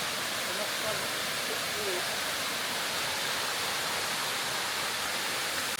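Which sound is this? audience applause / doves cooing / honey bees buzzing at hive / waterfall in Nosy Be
waterfall in Nosy Be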